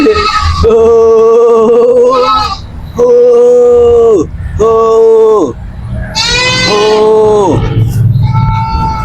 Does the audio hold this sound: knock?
no